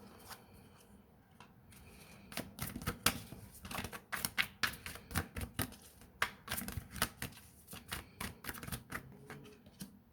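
Tarot cards from a deck being shuffled and laid out for a reading, a rapid patter of crisp papery flicks and slaps, close and fairly quiet, with no talking.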